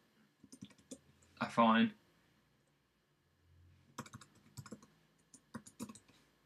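Bursts of quick, crisp key clicks from a computer keyboard as code is typed in Xcode, close and clear, with a short vocal sound and a pause between the runs of typing.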